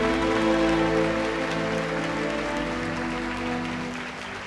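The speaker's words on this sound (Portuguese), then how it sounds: "Uma linda salva de palmas a Jesus, por favor." A church congregation applauds in praise to Jesus during a worship service, a steady wash of many hands clapping over sustained musical tones, holding a fairly even level and easing off slightly toward the end.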